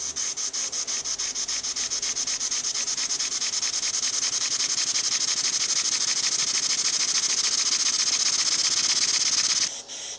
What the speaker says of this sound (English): That's always a good test of how good a model is, as to how slow it'll actually run, and that's running pretty slow there.